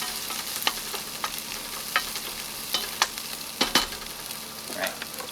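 Sweet peppers sizzling on an outdoor grill, a steady hiss with scattered pops and crackles, moderately close and heard alone.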